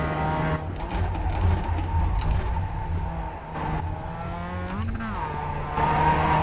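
Tires squeal on a Mazda MX-5 Cup car in the iRacing sim at Laguna Seca, a continuous engine drone with a brief rising skid squeal near the end, while a voice talks over it.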